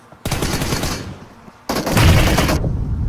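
Two loud bursts of automatic rifle fire from the PUBG Mobile video game, the first lasting about a second and the second stretching nearly a second longer, separated by a short pause.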